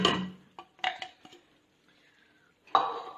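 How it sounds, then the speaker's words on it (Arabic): A metal spoon stirs onion and garlic in a pot, clinking and scraping against the sides in several short knocks. A quiet pause follows, then one loud clatter of the utensil. "نخلط، نزيد نخليهم يتقلاو مليح"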